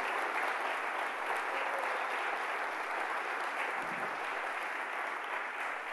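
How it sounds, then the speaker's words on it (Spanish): A church congregation claps steadily for Jesus during a sermon, a dense, even wash of applause that holds at the same level for the full six seconds with no voices on top. "Fuerte ese aplauso a Jesús"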